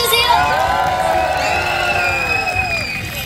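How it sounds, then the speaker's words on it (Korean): Festival closing-ceremony audience cheering and shouting with scattered applause, a dense continuous crowd roar heard close and loud throughout, with excited high voices calling out over it. "박수 주세요."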